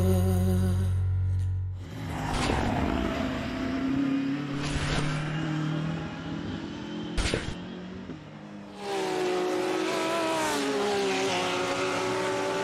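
Race cars lapping the Nürburgring in a racing video game endurance race, loud sustained engine whine with rising and falling revs, gear-shift drops and brief sharp crackles.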